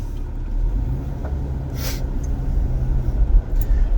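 A 2003 Jeep Wrangler X with a 4.0L engine and automatic transmission drives along, a low steady engine rumble and road noise from inside the cabin, with a brief rattle or hiss partway through.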